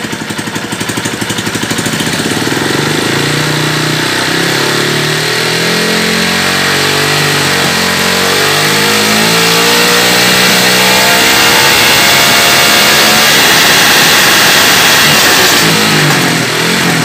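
A Honda CG 150 motorcycle engine, a 2004–2008 model, idles and then revs up, its pitch rising and falling in loud, close, sustained accelerations with no talking.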